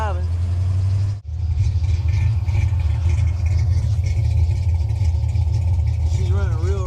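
A Foxbody car engine idles rough and loud with a misfire and poor tune, a steady low rumble broken by a brief dropout, with a voice talking over it.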